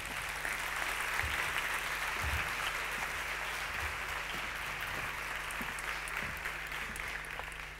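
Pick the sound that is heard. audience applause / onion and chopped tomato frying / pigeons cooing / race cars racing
audience applause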